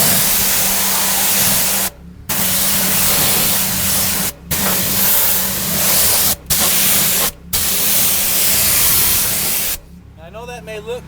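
A light mist of cleaner sprayed inside a car during a carpet detail: five loud, close hissing bursts of roughly two seconds each, separated by brief silent gaps, the final burst trailing into a faint, different sound.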